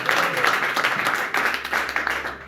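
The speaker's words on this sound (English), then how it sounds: "Clap your hands for the matter." A church congregation claps their hands, a burst of brisk, fairly close clapping in uneven waves with no one speaking.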